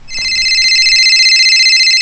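A mobile phone ringtone plays alone, a bright electronic melody of repeated high notes that starts abruptly and holds steady for about two seconds.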